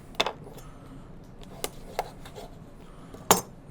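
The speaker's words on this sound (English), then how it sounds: "Right, back to that sharp knife. I'm going to cut that into 3." A sharp knife chops a whole chicken into three pieces on a cutting board: four hard, close knocks spaced irregularly, with quiet scraping between and no talk.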